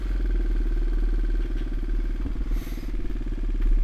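Restored Honda XR200RC motorcycle idling steadily just after a choke start, a close, even single-cylinder thrum with light mechanical clatter and a slight rise in revs toward the end.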